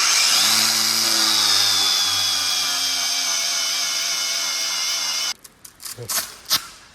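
A power tool fitted with a 400-grit sanding disc grinds against chrome, giving a loud, steady whine that cuts out after about five seconds, followed by a few clicks and handling knocks.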